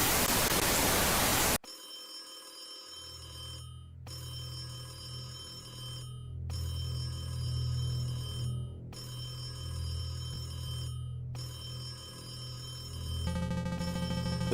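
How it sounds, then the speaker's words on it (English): A telephone rings in a horror video game, a steady electronic tone pulsing in a regular pattern of repeated bursts with short gaps, over a low droning background hum and an initial burst of static noise. "The phone is ringing."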